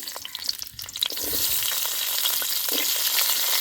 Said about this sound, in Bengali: আর বিনস কুচি এগুলো আমি একটু ভালো করে ভেজে নেব